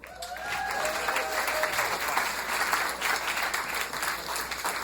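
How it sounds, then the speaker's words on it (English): Comedy club audience at the Comedy and Magic Club applauding a comedian's entrance, dense, loud clapping and crowd noise filling the room steadily, with a brief whistle at the start. "Start clapping right now for David Deeble."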